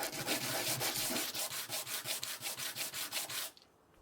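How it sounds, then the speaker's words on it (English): A wooden coffee table shaped like a map of Australia is sanded by hand. Close, regular strokes rasp back and forth about twice a second, then stop abruptly. "Now for every woodworker's favourite task, sanding."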